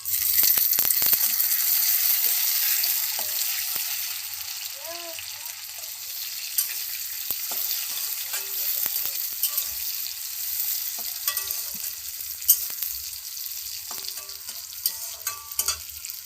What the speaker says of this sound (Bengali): পেঁয়াজগুলো লাল হয়ে গেছে, এবার টমেটোটা দিয়ে দেবো।